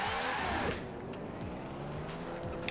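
A Ferrari F40 swapped to a turbocharged V12 in the racing game Forza Horizon 4 drones with a loud, steady engine note that shifts pitch as it revs, heard up close with no voices.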